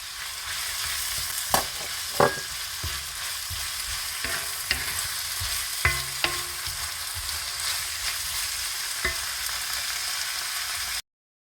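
Mixed vegetables and garlic paste sizzling in a pan for a veal stir-fry, a steady crackling hiss punctuated by several sharp clatters of stirring and tossing, loud and close, ending abruptly.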